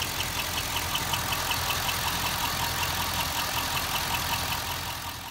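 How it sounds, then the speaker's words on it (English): A steady idling engine with a fast, repetitive ticking lifter knock from the top end running throughout, mixed with a squeak, fairly close and continuous. "If you hear an odd top-end knock mixed with a weird squeak"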